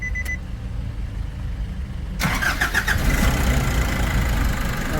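A Nissan NV350 van with a low-power fault cranks briefly and its engine catches, then settles into a steady, loud idle close by.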